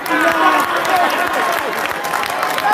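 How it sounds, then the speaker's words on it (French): Concert audience applause mixed with crowd noise, a busy wash of clapping with faint voices and cheering under it, steady and fairly loud for the whole stretch. "On applaudit pour ça."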